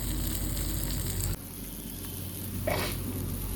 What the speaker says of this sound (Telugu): ఇప్పుడు డైరెక్ట్గా ప్యాన్ మీద ఫ్రై అయితే చేసేద్దాం.